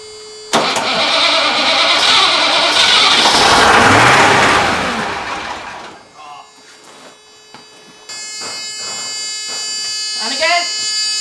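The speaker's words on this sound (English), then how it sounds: "I'll try and start it from under here." An old fire engine, hot-started, cranks and catches, then roars loudly as it revs before settling into a running idle. Voices talk over the engine near the end.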